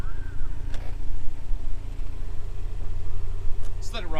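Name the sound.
Toyota MR2 engine idling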